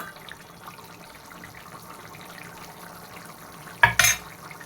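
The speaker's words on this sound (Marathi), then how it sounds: "तसं हे आपली उसळ पण शिजली पाहिजे त्याच्यामुळे मी पाणी टाकून घेते" Water poured into a pan of cooking moth bean curry (matki usal): a short, loud splashing sizzle near the end, after a quiet stretch of low kitchen noise.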